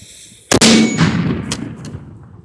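An experimental bowling ball mortar loaded with 3.5 ounces of powder fires outdoors with a sharp, powerful blast that echoes and decays over about two seconds, followed by a couple of fainter cracks.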